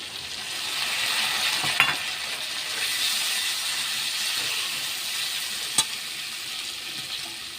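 Chopped tomatoes go into a hot pan of oil for a jackfruit kofta curry, giving a continuous close sizzle and hiss with a couple of brief utensil clinks.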